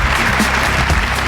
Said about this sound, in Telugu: ఓకే, గట్టిగా చప్పట్లు